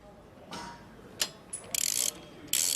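Torque wrench ratcheting while tightening bolts on a McLaren MP4-12C in an assembly workshop, a few quick separated clicks and then short buzzing ratchet bursts, close and alone.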